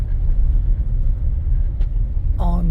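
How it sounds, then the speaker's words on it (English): A Jeep Compass Limited 4x4 rolls along a gravel road, its steady low road rumble and engine drone continuous from start to finish, with a brief voiced sound near the end. "on some gravel roads, testing out the four-wheel 4x4 capabilities of this Jeep Compass"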